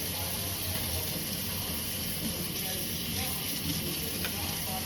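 Tap water runs steadily into a sink while dishes are washed, a constant hissing rush at moderate level with faint clinks underneath.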